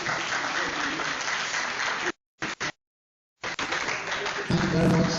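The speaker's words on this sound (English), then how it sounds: "Let's get clapping, please." An audience at an international education faculty conference applauds a guest being welcomed to the top table, with steady clapping, a sudden dropout midway, then resumed applause mixed with a talking voice near the end.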